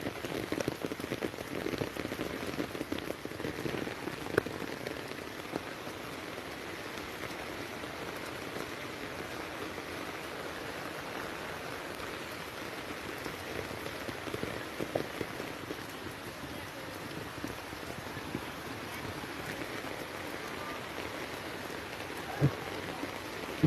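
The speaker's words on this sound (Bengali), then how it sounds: "অনেক বৃষ্টি হইতেছে।" Heavy rain falling steadily on surfaces, a dense even patter with occasional louder drops, continuous and moderately quiet with no voices.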